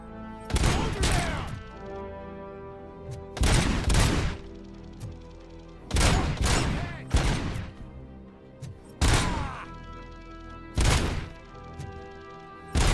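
Heavy rifle fire from a shooter video game in five separate loud bursts of rapid, crashing shots, each lasting about a second, spaced a few seconds apart with ringing decay between them.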